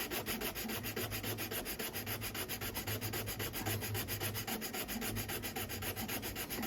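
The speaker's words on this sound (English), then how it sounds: "I have some excess gloop down here that I'm just going to sand off" Steady, rhythmic back-and-forth sanding on a Fallout X-01 prop helmet, smoothing away excess hardened gloop with close, scratchy strokes that repeat continuously without pause.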